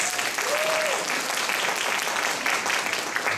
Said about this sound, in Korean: 아빠들을 위해서 박수 한번.